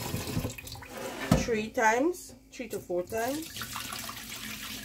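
Rice being washed in water at a kitchen sink, with running tap water and splashing under a person talking throughout.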